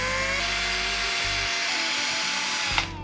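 A small electric drill with a 2 mm bit bores a hole in a wooden guitar kit part, a steady high whine that runs for about three seconds before spinning down.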